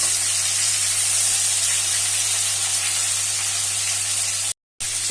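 Pointed gourds fry in hot mustard oil as they are turned, giving a loud, steady hiss and sizzle that cuts out briefly near the end.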